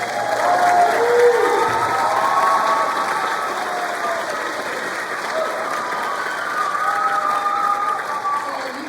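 Concert audience applauding honor choir members at a high school spring concert, steady dense clapping with some cheering sustained throughout.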